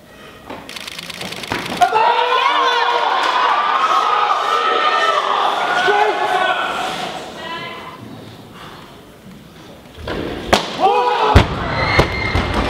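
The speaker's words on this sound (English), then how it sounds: "One more round of applause." A large crowd at a weightlifting championship cheers and applauds loudly and continuously, with shouts rising over the roar, then a few sharp bangs and a brief lull near the end.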